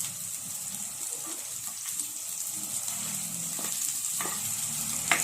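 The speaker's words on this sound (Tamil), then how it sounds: "அப்புறம் நம்ம வெட்டி வச்சிருந்த வெங்காயத்தையும் சேர்த்துடலாம்." Chopped garlic and onion frying in a pan for Tamil-style garlic rice, a steady close sizzle with a few faint stirring clicks throughout.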